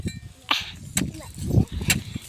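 Small firecrackers go off in about three sharp, separate cracks spaced roughly half a second apart, fairly close, amid low rumbling background noise.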